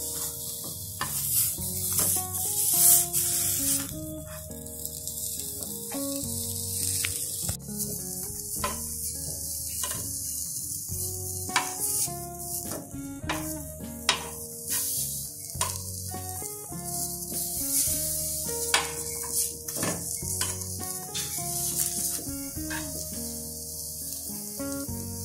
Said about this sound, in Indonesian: Kemudian setelah tempe selesai semua digoreng